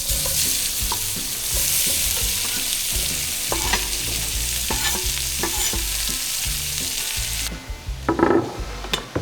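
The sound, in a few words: onions sizzling as they are dropped into the fire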